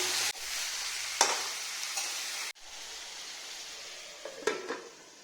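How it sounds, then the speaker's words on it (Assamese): Meat sizzles steadily in a pan with whole spices — green chili, cinnamon, cloves and cardamom — a continuous close frying hiss broken by a few sharp stirring scrapes and clinks, with no talking. "মাংসখিনি ধুনীয়াকৈ ভজা হৈ গ'ল।"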